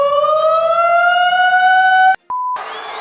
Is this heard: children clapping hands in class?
no